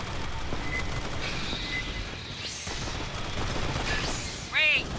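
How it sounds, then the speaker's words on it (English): Gunfire in the Aliens: Fireteam Elite video game rattles as continuous rapid bursts under dense combat noise, with a short louder spike near the end; game voices talk over it. "Must have heard the gunfire."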